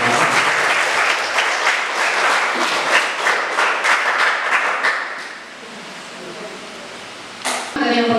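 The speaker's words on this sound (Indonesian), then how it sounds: "tepuk tangan untuk kita semua" An audience at a community psychoeducation session in Berau breaks into dense group applause that fades out after about five seconds, leaving a quiet room before a short burst of sound near the end.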